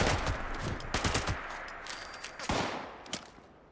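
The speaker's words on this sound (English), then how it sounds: "Nice incendiary rounds." Rapid bursts of incendiary-round gunfire in Fallout 76, several loud close cracks in quick succession forming short automatic volleys, with no talking.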